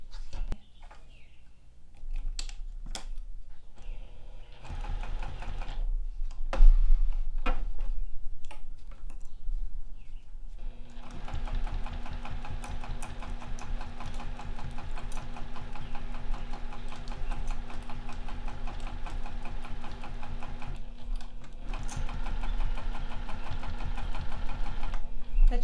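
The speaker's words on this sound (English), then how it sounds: "I'm gonna start at the edge of the foam and sew all the way down to the end of this foam." A sewing machine stitches down the foam-filled edge of a fabric bag handle, a steady, rapid mechanical ticking and whir, close and continuous after a few scattered clicks at the start.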